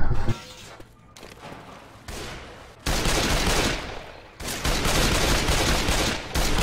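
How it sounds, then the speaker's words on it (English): Loud bursts of grenade launcher fire and explosions from Left 4 Dead 2, arriving in several heavy blasts separated by short lulls, close and dominant. "Oh, that's the grenade launcher."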